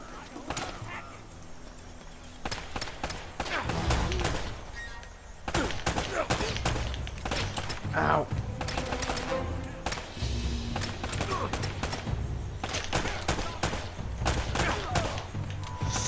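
Gunfire in Uncharted: Drake's Fortune rattles in repeated bursts and single cracks over a busy background, dense and loud throughout with short pauses between volleys.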